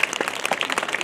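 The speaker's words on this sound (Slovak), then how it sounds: "zaslúžia si naozaj jeden veľký potlesk a jedno veľké poďakovanie" Audience applause at a civic event in Zvolen honouring guests with the mayor present, a dense, steady patter of many hands clapping throughout, fairly close and continuous, with no talking over it.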